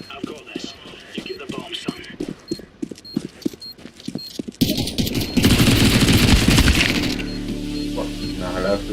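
Gunfire in Counter-Strike 2, rapid bursts of sharp shots in the first half, then louder sustained in-game noise with an explosion-like roar; a voice talks over it.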